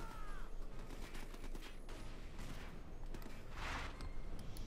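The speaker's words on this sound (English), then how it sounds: "Sten guns tearing through German flesh." Sten guns fire nonstop in a WWII strategy video game battle as commandos fight German grenadiers, a dense, loud wall of crackling gunshots and explosions with no pause.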